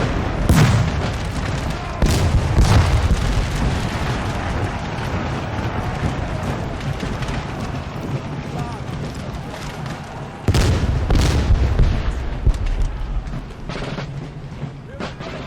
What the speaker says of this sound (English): Are getting hit really hard by artillery